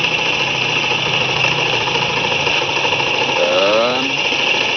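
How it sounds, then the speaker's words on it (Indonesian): A Honda Vario automatic scooter idling after a restart, giving a steady, even engine hum close by, with a voice briefly talking over it near the end. "motor ini sudah hidup kembali"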